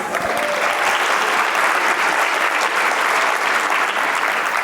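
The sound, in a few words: audience applause at a conference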